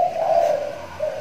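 A pet spotted dove gives a soft, hollow coo, one drawn-out note that fades, then a second shorter coo starting at the end, close and alone against quiet background.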